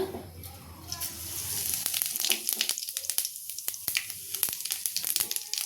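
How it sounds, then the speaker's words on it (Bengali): Whole cumin seeds hit hot oil in a kadai, giving a steady crackling sizzle that is loudest at first and then thins into scattered sharp pops. "এর মধ্যে আমি দিয়ে দেবো কটা গোটা জিরে"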